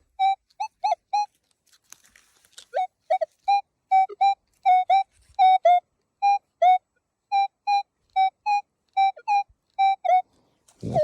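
Metal detector tone sounding during a coin hunt at an old farmstead, a string of short, evenly repeated electronic beeps, some doubled, clear and close with no talking.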